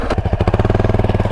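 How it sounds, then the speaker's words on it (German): Motorcycle engine towing a quad on a road, running steadily close by with a regular rapid pulsing chug throughout, no talk. "tried to tow the quad with the motorcycle to the store"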